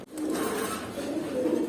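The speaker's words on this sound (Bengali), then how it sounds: "আমার যে কবুতরগুলো আছে এগুলোই আজকে আপনাদের দেখাবো।" Domestic pigeons coo in a short, soft, low burr that sounds close, with no talk.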